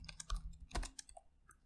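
Soft, quiet typing on a computer keyboard, a short burst of irregular key clicks with no voices.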